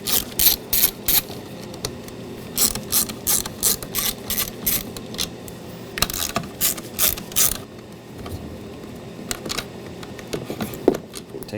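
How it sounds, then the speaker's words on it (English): A Phillips head screwdriver turns out screws from the master window switch of a 2012-2017 Toyota Camry, giving fast ratcheting clicks in repeated bursts with short pauses, close and clear. "Take your Phillips head screwdriver and remove all 3 so we can pull the switch off"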